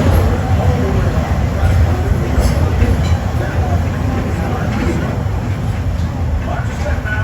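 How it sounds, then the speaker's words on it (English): Walt Disney World Railroad train rolling into Fantasyland Station, a steady, loud rumble of wheels and running gear on track with a continuous low hum, while a voice speaks over it. "As we pull into the station, please remain seated until the train comes to a full and complete stop"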